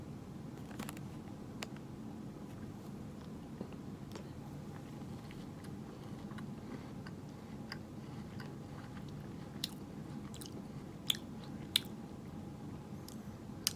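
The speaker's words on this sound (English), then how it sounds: "I smack my mouth a lot" Wet mouth smacking and chewing of an Oreo-like chocolate cookie with a caramel centre, close and continuous over a soft low rumble, with a few sharper clicks near the end.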